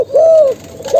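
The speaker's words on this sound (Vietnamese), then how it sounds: "gặp người là gù nữa cả nhà" A spotted dove coos nearby, a loud, smooth, low hooting note followed after a pause by the start of another, clear and alone without voices.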